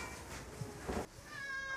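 A cat meows at an animal shelter run by an animal ambulance service in Den Helder, giving a short, clear call near the end over a steady background hum.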